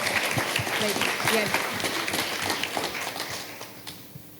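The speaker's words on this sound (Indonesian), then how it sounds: "Tepuk tangan dong." An audience applauds at a nursing academy graduation ceremony in Merauke, a broad, dense clapping that holds steady and then slowly fades, with faint voices underneath.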